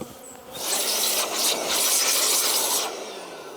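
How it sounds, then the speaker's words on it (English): A dense swarm of honey bees buzzing around an opened beehive, the high droning hum swelling loud and close for a few seconds before easing off, with no talking. "there's still loads of bees in this one"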